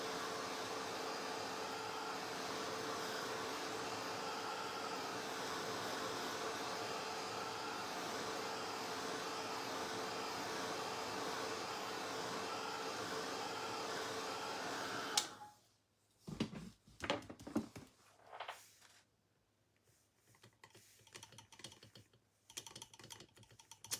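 A handheld dryer blows a steady, loud whoosh for about fifteen seconds while drying paint on a Santa hat door hanger, then cuts off, leaving scattered handling clicks and rustles.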